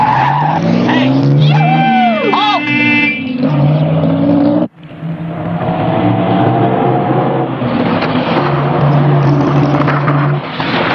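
A powerful 260-horsepower car speeds off with loud, close tire squeals and skidding, engine roaring and dropping out briefly before surging on, with shouted voices and music mixed in.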